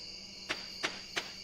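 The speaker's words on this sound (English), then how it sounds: "So peaceful with all the crickets." Three faint, evenly spaced cricket chirps ring out over a steady high-pitched insect drone in a quiet setting in Stardew Valley.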